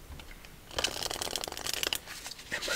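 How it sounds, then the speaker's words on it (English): Playing cards from a Minecraft-themed deck being shuffled, a crisp riffling burst of rapid flutters lasting about two seconds, close and fairly quiet, with no talk. "let's shuffle up these cards"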